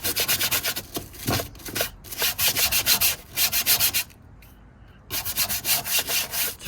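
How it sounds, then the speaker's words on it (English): An upholstery brush scrubs rust off a Land Rover Defender door in loud, rapid rhythmic strokes, in bursts with a short pause midway. "You can sometimes find you can use an upholstery brush and get enough of the rust off."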